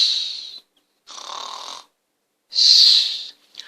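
A storyteller's voice imitates a sleeping giant snoring loudly, giving three long rasping snores separated by short pauses and ending in a small snort, close and alone.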